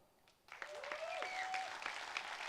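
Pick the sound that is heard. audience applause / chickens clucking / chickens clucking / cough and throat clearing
audience applause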